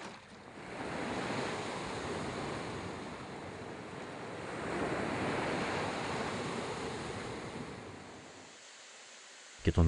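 Sea waves at Tyros roll and wash steadily in a broad, continuous surf hiss that swells twice, with some wind, then drops away abruptly near the end.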